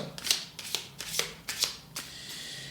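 Oracle cards shuffled and drawn by hand, a series of crisp, close riffling bursts about half a second apart, fading into quieter handling at the end.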